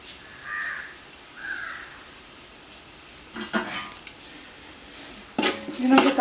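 Ginger, garlic and green chilli paste sautéed in leftover fish-frying oil for fish biryani: metal spoon and pan clatter in two loud bursts of scraping and clinking, after a quiet stretch with two short crow-like calls in the background.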